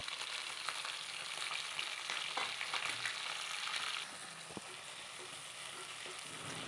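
Onions sizzle in hot oil with mustard seeds, cumin, garlic and green chillies, a steady broadband frying hiss that drops slightly in level partway through, with a few faint utensil taps and no talking.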